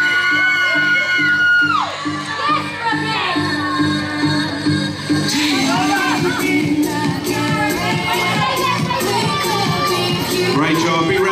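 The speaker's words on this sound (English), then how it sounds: "Big round of applause for Brooke." A crowd at the ICN Sydney Superbodies Ms Fitness Model competition cheers loudly, with whoops, yells and shouts rising over a continuous roar of clapping that fills the room.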